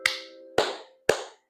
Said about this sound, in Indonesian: tepuk tangannya 3 kali